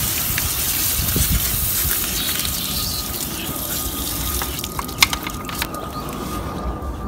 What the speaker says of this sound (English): a little gentle rinsing is appropriate.